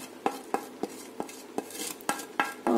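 A spoon stirs spices such as coriander powder and garam masala into a paneer curry in a pot, giving about eight crisp, regular scraping knocks spaced roughly a third of a second apart, close and fairly quiet.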